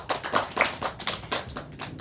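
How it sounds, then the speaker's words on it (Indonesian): Classroom students clap their hands in a short, loose burst of separate claps, fairly quiet and uneven in rhythm. "Beri tepuk tangan."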